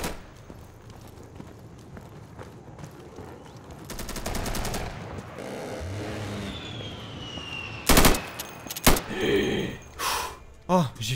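A-10 aircraft cannon strafing in the shooter game Insurgency, a long buzzing burst of rapid fire over engine roar and ambient battle noise, followed by sharp loud impacts and explosions, with someone speaking at points.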